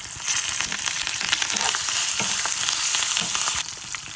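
Dried red chillies, garlic and curry leaves frying in hot oil for a tempering, giving a steady, continuous crackling sizzle close up that holds level and eases slightly near the end.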